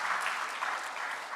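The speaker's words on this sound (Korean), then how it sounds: "우리 박수로 한번 격려해 주시기 바랍니다" A church congregation claps for the choir preparing for Easter, giving a short burst of steady, dense applause that fills the room.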